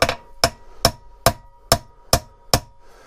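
Seven evenly spaced metallic taps from a heavy hammer driving a detent pin into the bore of a BMW E46/E36 ZF gearbox, sharp and ringing, at a steady slow rhythm, close up with no talking.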